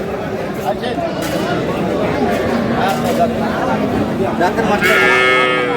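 Cows and calves of foreign and Jersey-cross breeds moo repeatedly at Aftabganj cattle market in Dinajpur, drawn-out calls rising over a busy crowd of chattering buyers and sellers, with one strong moo near the end.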